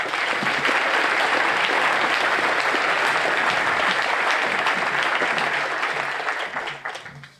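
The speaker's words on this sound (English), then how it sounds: "So please join me this morning in giving him a round of applause and welcome him to the podium." Sustained applause from an audience welcoming a speaker to the podium at a morning ceremony, loud and dense throughout before tapering off near the end.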